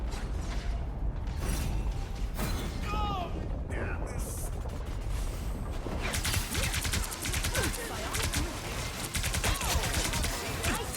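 Rapid gunfire bursts and weapon effects in the hero shooter Marvel Rivals, dense and continuous through a busy fight with shimmering ability sounds, louder and more sustained in the second half, with a player talking over it.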